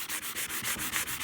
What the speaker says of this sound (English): I'll try the sanding block for a little bit longer